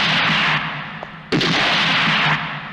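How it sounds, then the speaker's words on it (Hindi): Gunshots ring out at a picture in a Bhojpuri film scene: a single loud, sharp crack followed by a sustained ringing echo, over an already busy soundtrack. "विश्वनाथ, इस तरह तस्वीर पर गोली चलाने से तुम्हें वो सब कुछ तो नहीं मिल जाएगा जो तुमने खोया है।"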